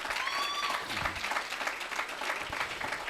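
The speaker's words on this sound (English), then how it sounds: "I think that deserves a round of applause." Audience applause at an entrepreneurial resilience workshop in Atteridgeville, a steady wash of many hands clapping throughout, with a brief whistle-like tone near the start and some murmured voices underneath.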